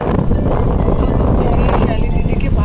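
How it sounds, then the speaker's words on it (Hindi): Engine and wind roar on a scooter ride on an Indian road during a family Raksha Bandhan outing, a constant loud buffeting rush with wind battering the microphone throughout, and no clear talk over it. "आज बहुत दिनों बाद हम कर रहे स्कूटर की सवारी।"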